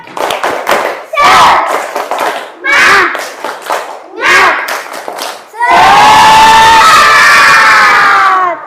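A classroom of children performs a rhythmic clap-and-shout chant in short bursts, loud and close, then erupts into sustained cheering and shouting.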